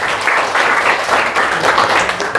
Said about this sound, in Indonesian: Beri aplaus dulu untuk Akram.